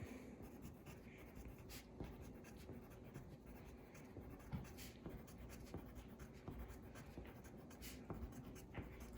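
Marker tip scratching and squeaking steadily on a paper worksheet while little boxes are drawn, a soft continuous run of short strokes close by, faint and even with no talking.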